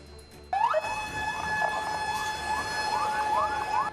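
Fire engine sirens wail at a cotton storage factory fire in Bandung, a loud rising-and-falling electronic siren that starts abruptly and cycles steadily over continuous traffic rumble.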